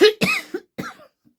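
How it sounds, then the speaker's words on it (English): A woman's single sharp cough followed by a shorter second cough, close and loud, then quiet, in an indoor craft setting. "Perhaps it's a nervous cough."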